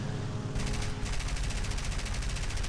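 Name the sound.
aircraft gunners firing machine guns, War Thunder video game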